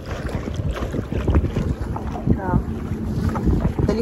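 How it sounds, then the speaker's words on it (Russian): Stormy sea waves and strong wind on a beach in Dubai, with a continuous rough roar and gusts buffeting the microphone throughout; a brief voice rises faintly once in the middle. "Смотрите, какие сзади меня волны."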